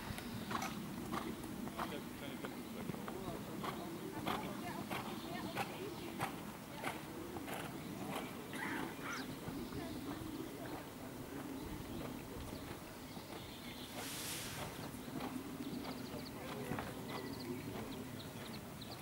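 Hooves of a Hanoverian stallion clop in a steady rhythm across an arena footing during a young horses' dressage test, soft and mid-distance, under an announcer's voice speaking in German.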